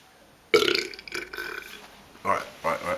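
After drinking beer, a man gives a drawn-out, croaky burp, loud and close, followed by a couple of shorter gurgling belches.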